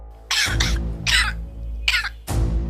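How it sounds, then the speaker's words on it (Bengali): A person coughing during a phone call, several harsh, close coughs in quick bursts with short gaps between them, loud and dry over a low background hum. "তুমি কাশতেছো কেন?"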